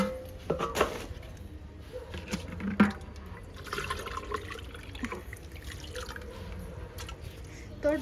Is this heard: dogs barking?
no